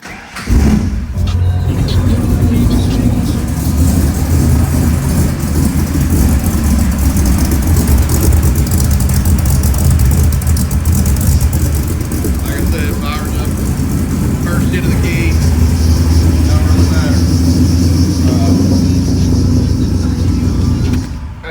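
Ford Ranger with a swapped-in 5.0 liter 302 V8 and T5 gearbox idling steadily and loudly, a deep continuous engine rumble with a possible wet belt chirp, under a speaking voice.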